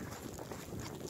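Strong wind gusting at the seaside during snowfall, buffeting the microphone with a steady, loud broadband roar and low rumble throughout.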